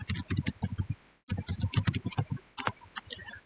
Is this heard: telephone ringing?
no